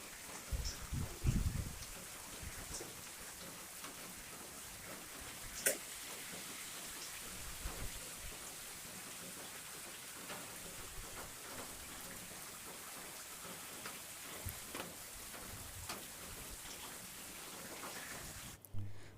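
Steady rain falls on soil outdoors with a dense, continuous patter, and a brief louder rumble or thud near the start.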